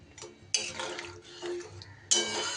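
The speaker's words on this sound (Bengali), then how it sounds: "এইবার এই পর্যায়ে আমি দিয়ে দেব জল" Water is poured into a pan of fish and potato curry, giving short bursts of splashing and gurgling between clinks of a utensil against the pan, close and fairly quiet.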